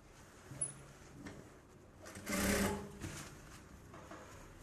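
A sewing machine stitching fabric for a Bharatanatyam dance costume, heard as one loud whirring burst of stitching in the middle between softer handling noises.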